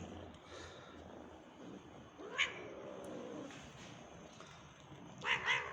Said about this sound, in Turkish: Anne kedi hem kızıyor hem seviyor.